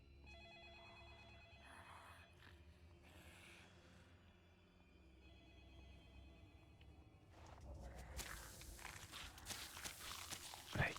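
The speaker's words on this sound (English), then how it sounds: "So the other phone is ringing, which has distracted the zombie over there" A telephone rings with a faint repeating bell in Escape Dead Island, distant and quiet under ambient game noise and footsteps, with a louder burst of sound building near the end.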